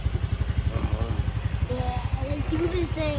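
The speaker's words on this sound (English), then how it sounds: "Then we're gonna go adventuring on our motorbikes." Motorbikes setting off for a ride, a low rhythmic engine putter close by that drones steadily throughout while people talk over it.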